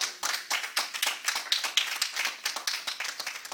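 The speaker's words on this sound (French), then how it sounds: "Est-ce qu'on peut acclamer la parole de Dieu?" A church congregation claps in praise of the word of God during an evangelist's sermon, a dense burst of many hands with rapid, irregular slaps, fairly close and lively, with no voices over it.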